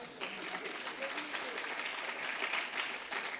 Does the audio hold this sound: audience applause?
yes